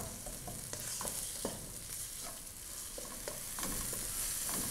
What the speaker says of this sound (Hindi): प्याज को हमने 1 मिनट तक फ्राई किया है।